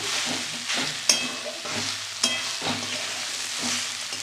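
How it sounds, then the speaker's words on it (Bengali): Beetroot frying in oil in a pan, stirred by hand for a Bengali side dish. A steady soft sizzle runs throughout, with rhythmic scraping strokes and two sharper clinks of the utensil against the pan. "বিটটা অল্প আগে ভাজতে হয়। দেখো বিটের থেকে জল নেই, তেল ছেড়ে দিয়েছে।"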